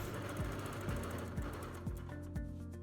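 A sewing machine quilting a leaf pattern in a quilt, its motor humming steadily with a regular mechanical thump about twice per second, close and fairly quiet.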